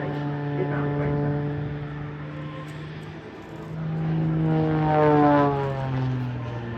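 A propeller aerobatic aircraft performs a torque roll into a flat spin at the Farnborough Airshow, its engine droning steadily and shifting pitch as it manoeuvres at a moderate distance.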